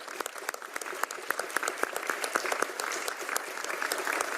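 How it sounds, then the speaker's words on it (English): Attendees at a city council meeting give a round of applause, distinct individual claps rising into a fairly close, moderately loud patter that gradually thickens and grows denser. "would you help me in giving a round of applause to my team who works so hard?"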